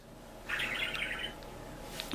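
A pet bird chirping in the background during model train table work, one bright warbling chirp lasting under a second, followed by a couple of faint short peeps, distant over a steady low room hum.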